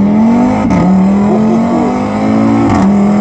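An Audi RS3 with the 2.5 TFSI five-cylinder engine and ABT Stage 1 tune revs hard from inside the car on the road, a loud, close, throaty drone that rises and dips between gearshifts.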